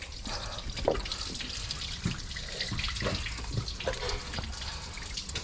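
Dark water draining and splashing from a Ford Falcon EF during an auto to manual conversion, a continuous trickle with small drips and splashes, close and moderately loud.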